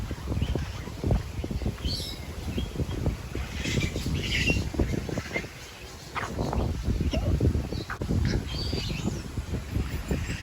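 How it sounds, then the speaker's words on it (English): Many birds of several species squawk and chirp in a busy, echoing aviary, with occasional wing flaps and a steady rumble of activity beneath the calls. "As you can hear these birds"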